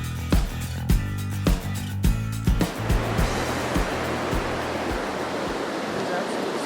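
The Kettle River in Banning State Park, Minnesota, rushes as a steady, loud broadband wash of flowing water, preceded by a few seconds of rhythmic low thumps.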